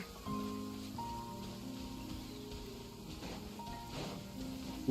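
Rain falls steadily across a video game scene, a soft even patter under low tonal music, with a few louder drops and rustles near the end.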